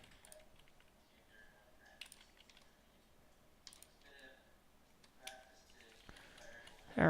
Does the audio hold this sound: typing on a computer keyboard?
yes